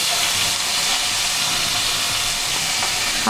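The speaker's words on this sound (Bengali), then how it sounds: "এখন আমি এই ফ্রাই প্যানে আরেকটু তেল দিয়ে দেব, পেঁয়াজ দিয়ে দেব।" Onions sizzling in hot oil in a frying pan, a steady loud hiss and crackle that runs unbroken from start to finish with no voices.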